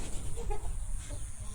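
A year-old aggressive rooster at a farm selling fighting birds gives brief, faint clucks over steady background noise.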